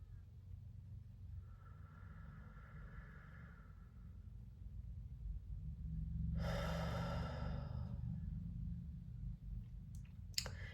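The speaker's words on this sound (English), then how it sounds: "Let's take one more deep breath" A slow, deep breath taken during a guided meditation session, a soft drawn-in inhale followed by a longer airy exhale, faint and close with a low hum beneath.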